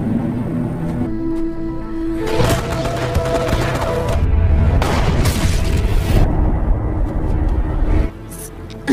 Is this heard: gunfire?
yes